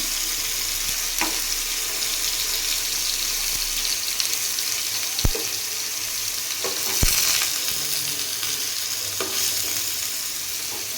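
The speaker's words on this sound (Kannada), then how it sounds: "ಇವಷ್ಟು ಪನ್ನೀರನ್ನ ಇದಕ್ಕೆ ಸೇರಿಸ್ತೀನಿ. ಇದನ್ನು ಸ್ವಲ್ಪ ಫ್ರೈ ಮಾಡ್ಕೊಂಡ್ರಿ." Paneer fries in a pan for kaju paneer masala, making a steady, broad sizzle throughout, with a few sharp clinks of a utensil against the pan.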